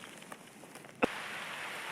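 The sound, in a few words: rain starting in the hills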